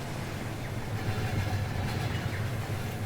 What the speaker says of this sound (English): a second one turning off from the B&O onto the CNO and southbound, just for a little extra train action